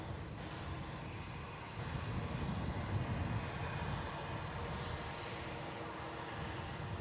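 A Velocity aircraft starts its takeoff roll at Melbourne Airport, the engine rumble rising a notch after a couple of seconds and then holding as a steady, fairly distant jet roar, without voices.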